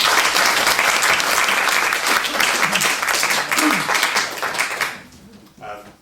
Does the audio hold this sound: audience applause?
yes